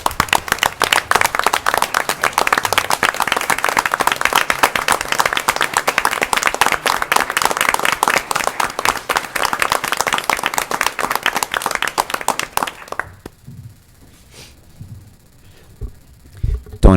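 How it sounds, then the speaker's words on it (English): Attendees at a town council meeting break into sustained, dense applause that stays loud and even for about thirteen seconds, then cuts off sharply into near-quiet room sound with a few faint bumps. "If we could please acknowledge Dawn and give her a huge round of applause as well."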